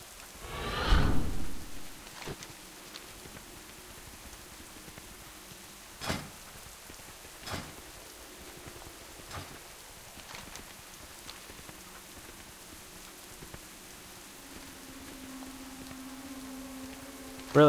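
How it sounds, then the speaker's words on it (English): Rain falls steadily throughout the Gilneas zone in World of Warcraft, a soft continuous wash with scattered louder thuds and a brief low tone near the end, no talking. "I think it's rained the entire time"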